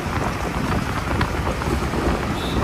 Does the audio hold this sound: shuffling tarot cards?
no